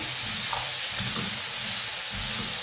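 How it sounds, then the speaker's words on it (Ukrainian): Steady sizzling of pumpkin pulp frying in a pan, a continuous hiss with faint stirring scrapes and no voices. "і смажу, щоб м'якоть була м'якою"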